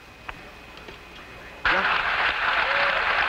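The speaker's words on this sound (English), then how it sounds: "An extremely loud applause here in Mission Control" Loud applause erupts suddenly in Mission Control after the Apollo 13 splashdown, following a quiet stretch with faint radio chatter, then sustained heavy clapping with cheering.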